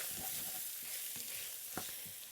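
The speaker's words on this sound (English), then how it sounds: "You want to put that in and fry it off just a little bit." Tomato paste frying in a hot pot, a steady bright sizzle with a few soft stirring scrapes and knocks, heard close and alone.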